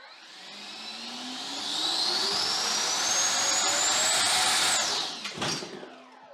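An RC MiG-29 with 64mm electric ducted fan jets running through a Lightburner afterburner test, a loud whining rush that spools up in pitch, holds, then cuts off abruptly, with a quieter whine lingering after.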